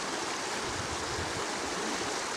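A river flows beneath a small village bridge, giving a steady, broadband rush of water that stays even and fairly close throughout, with no voices over it.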